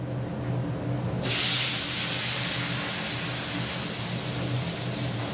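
Pointed gourd pieces drop into a hot pan of oil, bursting into a loud, steady sizzle after a brief quieter moment and hissing on without pause.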